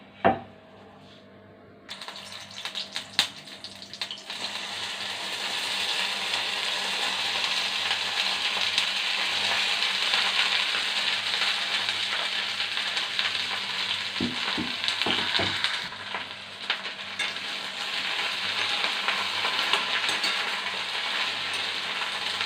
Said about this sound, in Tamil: எண்ணெய் ஊற்றிட்டு முதல்ல வெண்டைக்காவை நல்லா வதக்கிக்கலாம்.